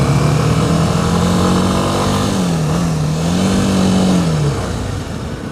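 A Kawasaki Ninja 250 SL motorcycle engine runs steadily while being ridden, its loud, close drone shifting pitch slightly as the revs rise and fall before easing off near the end.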